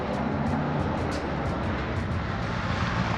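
A car passes by steadily, its broad engine and road roar holding even and loud for a few seconds, with no voices over it.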